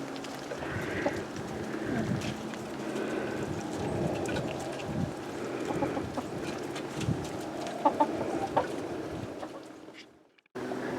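Americana hens in a backyard chicken coop give soft clucks and low murmuring calls, fairly close and intermittent against a quiet outdoor background.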